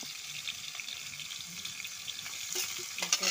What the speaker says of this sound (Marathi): कढई तपली होती, जिरं टाकून घेतलेलं आहे. लगेच कैरी टाकून घेतलेली आहे